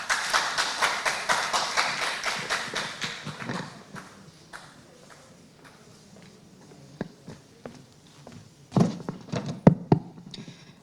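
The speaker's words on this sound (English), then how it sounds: "round of applause as she comes" At a conference debate, the audience breaks into steady applause as the speaker walks up, fading out after a few seconds, followed by scattered thumps and taps in the room.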